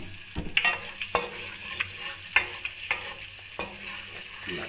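Garlic cloves sizzling and frying in a pan for chicken jalfrezi, a steady crackle broken by repeated clinks and scrapes of a spoon stirring, close and fairly loud with no talking.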